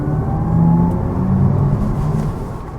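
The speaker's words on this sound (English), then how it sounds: "Sounds like a really angry vacuum cleaner." A 2022 Audi RS e-tron GT electric car accelerating with its synthetic sport sound on, heard from inside the cabin: a loud, low humming drone with a faint rising whine.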